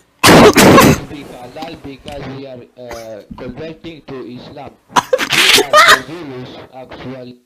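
A loud, close sneeze bursts out once at the start during a casual pizza-ordering conversation, followed by ongoing talk and a second loud burst of voices or laughter later.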